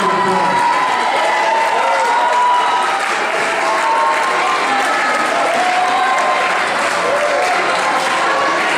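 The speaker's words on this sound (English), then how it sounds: "Let's give them a nice round of applause." An audience at a high school fall sports awards banquet claps loudly and steadily for all-conference athletes. Dense, sustained applause fills a room and is mixed with crowd murmur and a few cheers throughout.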